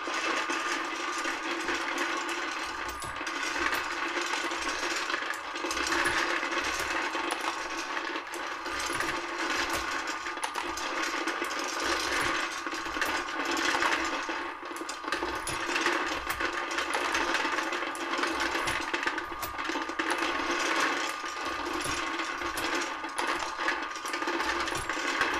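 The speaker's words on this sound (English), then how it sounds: "let's turn our bullet feeder back on so that it maintains the level of bullets in the drop tube" Hornady Lock-N-Load bullet feeder dropping 45 ACP bullets into its drop tube, a dense, steady metallic clatter and rattle that runs continuously throughout at close range with no voices.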